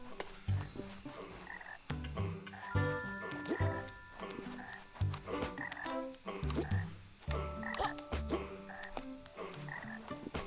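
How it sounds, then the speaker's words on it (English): Frogs croaking in the video game The Plucky Squire, a series of loud, rhythmic croaks repeating every second or so alongside game music and effects. "So the frogs do that."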